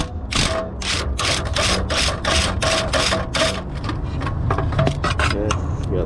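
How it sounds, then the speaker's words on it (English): A Snap-on 3/8-inch extended flex-head ratchet with a short socket clicks in rapid bursts as it loosens a nut on a Lexus IS250, a close, loud ratcheting rhythm that slows toward the end. "we're using this extended flex head 3/8 snap-on ratchet with just one of the short 14 sockets"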